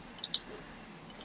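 A few sharp, quiet keystrokes on a computer keyboard enter an elevation value for a pipe-length calculation: two close clicks, a pause, then one fainter tap, over a low hum.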